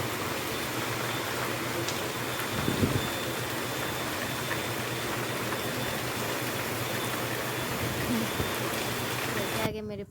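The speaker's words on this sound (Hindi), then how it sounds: "ये कितना आंधी जैसे हवा चल रहा है, बहुत तेज आंधी था और बारिश भी था" Strong stormy wind with heavy rain, a dense continuous roar and hiss of downpour and gusts, steady and loud for the whole stretch, ending abruptly.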